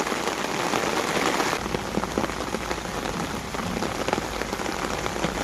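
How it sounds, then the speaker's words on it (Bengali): Heavy rain pouring down in a rural Sundarban village, a dense, steady hiss of drops striking surfaces with scattered louder splats, continuous and close, no talk. "কত পরিমাণে বৃষ্টি হচ্ছে দেখুন।"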